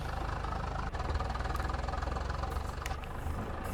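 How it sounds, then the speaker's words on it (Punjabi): A tractor engine in Farming Simulator 22 runs steadily with a rough, knocking rattle, a continuous loud low drone with a slight uneven pulse throughout. "ਇਹ ਖੜਕਦਾ ਕਿਵੇਂ ਆ ਟਰੈਕਟਰ"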